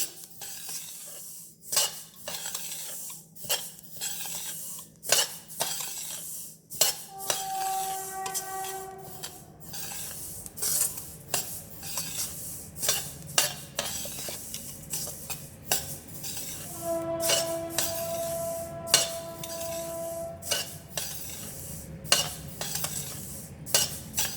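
Black sesame seeds dry-roasting in a pan, stirred with a utensil that gives frequent sharp scrapes and clinks against the metal over a low background hiss, with a few brief ringing tones in between.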